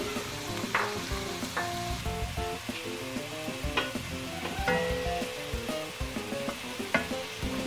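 Steady sizzling of garam masala frying in a hot pan with stirring scrapes and occasional clinks, loud and close, no voices.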